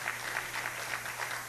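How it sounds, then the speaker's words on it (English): A church congregation claps in praise during worship, a steady rhythmic run of hand claps at roughly three to four per second, moderately loud and without speech. "You're going to give a hand clap to God."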